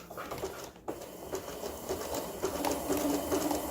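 A sewing machine runs a zigzag stitch through a raw-edge appliqué quilt, giving a steady, close mechanical whir with a light rhythmic patter that continues throughout at a moderate level.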